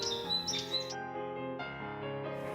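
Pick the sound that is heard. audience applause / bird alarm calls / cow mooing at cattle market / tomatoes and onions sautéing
bird alarm calls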